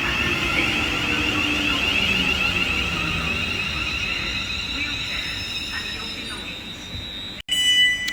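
A train rolls steadily through Watford Junction on the West Coast Main Line with locomotive 35256 trailing, giving a sustained loud rumble and squealing wheel tone that holds throughout before a sharp cut near the end.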